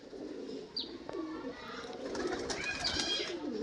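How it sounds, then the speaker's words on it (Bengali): Pigeons at a bird sale, a female pigeon among them, give soft cooing calls with faint chirps and some wing movement, heard close against a steady background of market noise. "এটা মাদা পায়রা"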